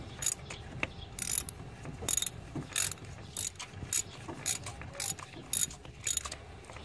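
Hand ratchet tightening a spark plug on a 2011-2014 Dodge Charger 5.7L, about ten evenly spaced clicking strokes in a steady back-and-forth rhythm, close and moderately loud.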